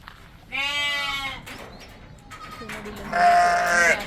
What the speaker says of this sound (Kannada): ಸೋ ನೋಡ್ತಾ ಇದ್ರೆ ಎಲ್ಲ ಮೇಕೆ ಸೌಂಡ್ ಮಾಡ್ತಿದೆ